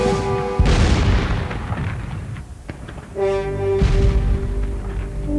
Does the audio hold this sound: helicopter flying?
no